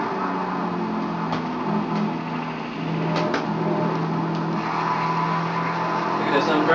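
A little Toyota races a Ferrari in a racing simulator game, its engine a steady droning hum with a whining overtone that holds at a continuous level throughout.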